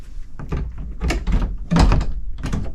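Leviton 42-inch media enclosure door being opened, giving a series of close, loud clunks, rattles and thumps of metal panel handling in quick succession.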